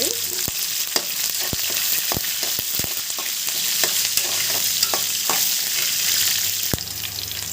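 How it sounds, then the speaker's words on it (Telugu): Cashews, onions and curry leaves frying in hot oil for upma, a steady loud sizzle broken by scattered sharp clicks of a spoon or spatula stirring the pan, with no voices. "ఇందులో ఆనియన్స్ కరివేపాకును కూడా వేగనివ్వండి"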